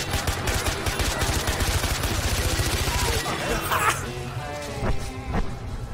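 Rapid automatic gunfire from a weapon fired out of a moving car in the shooter game Far Cry 4, a dense stream of shots for about three seconds, then scattered single blasts and crashes, with shouting voices over the action.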